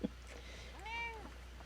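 A cat meows once in Fallout 4, a short, clear rising-and-falling call heard close and alone against a quiet game background.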